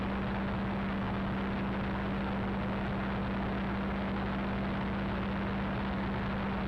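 Spitfire airplane on a high-speed pass, heard as a dense, steady roar of engine and rushing wind with a strong droning hum, loud and close throughout with no break.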